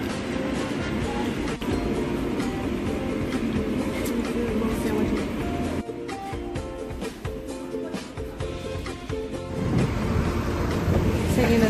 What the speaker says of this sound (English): Taking the subway to get to the palace. Line 3.